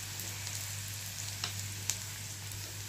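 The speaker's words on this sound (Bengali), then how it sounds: "এর মধ্যেই আমি গাজরটা দিয়ে দেবো একসাথেই ভাজা হয়ে যাবে।" Carrots and green chilli fry in a pan with a soft, steady sizzle and a couple of small pops, quiet and close.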